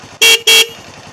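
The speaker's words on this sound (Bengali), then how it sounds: "এর হর্নটা সুপার হিট হর্ন।" Two short, loud honks in quick succession from the horn of a TVS Stryker 125 motorcycle, close by.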